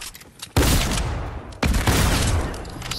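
Loud sniper rifle shots in the battle royale video game Fortnite, two heavy blasts each followed by a long rumbling decay that fills the clip.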